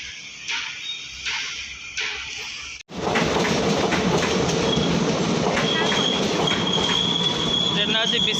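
Visakhapatnam–Bhubaneswar Express train at a station, a loud continuous rumble of wagons rolling past close by, with a rising wheel squeal toward the end after a brief lull.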